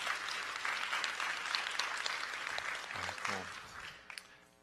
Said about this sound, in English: a round of applause for these folks and the wonderful work that they do